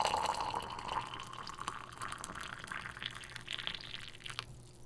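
Tea poured from a pot into a cup, a soft trickling and splashing stream that is faint and close, with a few light drips near the end.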